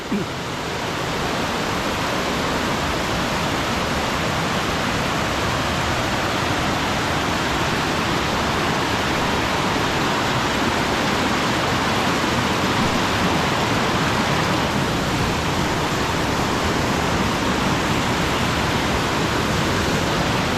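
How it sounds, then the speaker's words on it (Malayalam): Kanyarkayam waterfall in Kerala, with water flowing down from the hilltop, pours in a loud, steady broadband roar that holds constant and unbroken throughout, close by, with no voices over it. "ഇതാണ് ആ വെള്ളച്ചാട്ടം, കന്യാർകായം വെള്ളച്ചാട്ടം."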